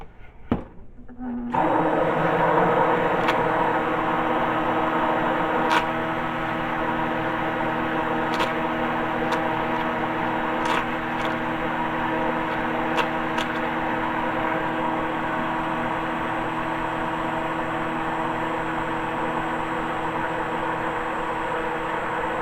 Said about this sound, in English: So we're gonna stick blend, and we're gonna stir